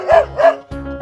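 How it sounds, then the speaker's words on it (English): Two quick barks from a dog, close and loud, then a short whimpering yelp. "Dog."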